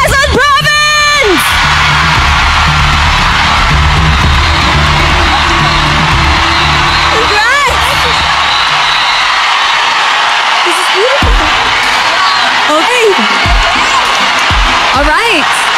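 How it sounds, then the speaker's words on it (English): A loud, dense pageant crowd at the Miss Universe 2024 top 10 announcement roars and whoops continuously, with sharp rising yells piercing the din and a host's voice talking over the noise. "And the crowd goes crazy."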